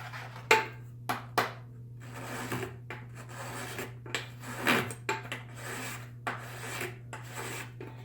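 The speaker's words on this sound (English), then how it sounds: "Or I can use a file." A hand file rasps across the ridge on the bottom of a soft aluminum can, in a series of irregular scraping strokes, some sharp and loud and others softer, heard up close over a steady low hum.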